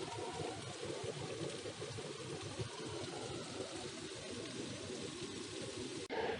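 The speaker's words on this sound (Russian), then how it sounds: "Это водопад." Steady broadband rush of a waterfall in the mountains of Dagestan, continuous and fairly close, with a brief shift near the end.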